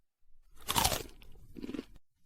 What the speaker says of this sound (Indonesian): Beli 1 tusuk tanghulu. 2 koin per tusuk manis renyah tidak lengket di gigi.